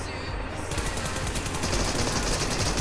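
Sustained automatic fire from an M249 machine gun in an online shooter game, a dense rapid rattle of shots running loud and continuous from start to finish.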